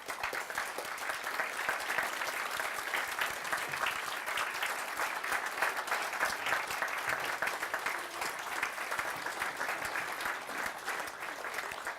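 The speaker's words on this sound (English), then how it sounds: "Please stand and applaud your family and friends." Large university graduation audience standing and applauding families and friends, a continuous even wash of many hands clapping heard from within the hall, steady throughout with no break.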